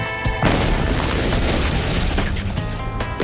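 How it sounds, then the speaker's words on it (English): A C4 plastic explosive detonates in a sudden, very loud blast that hits hard and rolls on as a sustained roar, with faint talk at the very start. "The high-speed explosives, like the plastic explosives, C4, etc., those tend to be really snappy. Those tend to have a very sharp crack."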